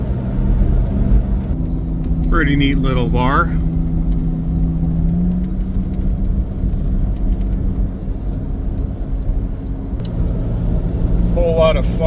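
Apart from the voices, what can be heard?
truck driving, road noise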